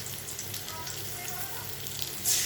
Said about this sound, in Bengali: এবার মশলাটা ছেড়ে দেবো।